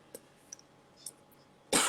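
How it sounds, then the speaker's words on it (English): A single sharp cough bursts out near the end, loud and close, after faint clicks over a quiet room background. "I'm having so many cough from yesterday"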